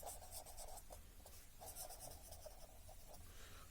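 Handwriting by pen on paper, quiet close scratching strokes coming in short bursts, with no voices.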